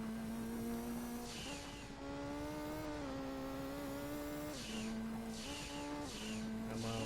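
Pikes Peak race car engine in Gran Turismo 2 droning loudly and steadily for the whole stretch, its pitch stepping up and down with gear changes, alone with no talk.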